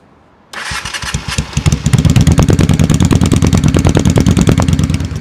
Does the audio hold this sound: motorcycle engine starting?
yes